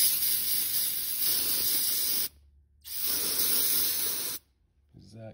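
Two long bursts of aerosol spray hissing, loud and close, separated by a brief pause, with a faint rustle at the end.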